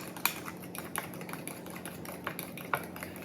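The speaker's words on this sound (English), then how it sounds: "make sure there's no eggshells in the butter and sugar, and just mix this in well" Egg being mixed into creamed butter and sugar in a bowl, with a run of soft, irregular scrapes and light clinks of a utensil against the bowl, close and fairly quiet, with no talking.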